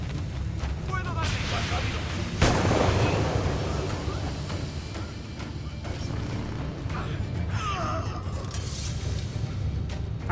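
Heavy booms and crashing blasts of ship cannon fire in the pirate video game Assassin's Creed Black Flag, with one loud impact early on and dense battle noise throughout, under excited talk.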